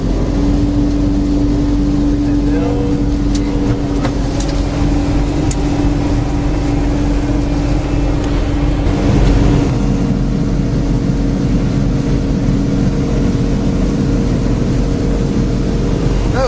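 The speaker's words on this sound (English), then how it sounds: "We're going to give it a lot of throttle here." A boat engine runs under heavy throttle, a loud, continuous rumbling drone that holds steady for the whole stretch, with no voices.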